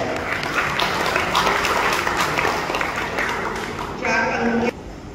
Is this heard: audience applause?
yes